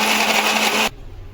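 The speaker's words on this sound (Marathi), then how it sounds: "तर हे आता आपण मिक्सरला लावून देऊया." A mixer grinder whirs loud and steady while grinding a paste of coconut, garlic, onion, whole spices, tomato and red chilli, then shuts off abruptly, leaving faint room noise.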